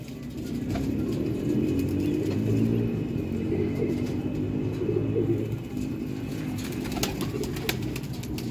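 Pigeons kept in a loft setup offered for sale, cooing in soft repeated low rolling calls, close and clear, with faint background noise and no speech.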